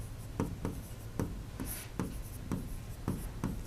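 Pen writing a name on paper, soft scratchy strokes at close range with a roughly regular rhythm of short scraping bursts about every half second.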